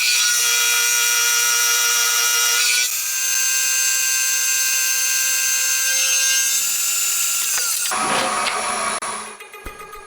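A loud, continuous machine whine grinds away at a metal engine case for a 125cc four-cylinder engine, shifting pitch partway through, then rough scraping and clatter before it winds down.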